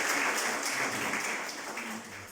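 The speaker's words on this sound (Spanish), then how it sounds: "un fuerte aplauso para todos los que han estado" Church congregation applauding those who serve, a steady wash of clapping from a room full of people, fairly loud and continuous throughout.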